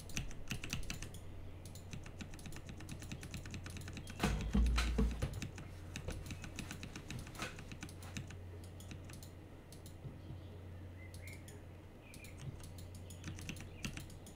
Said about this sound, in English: I'm typing.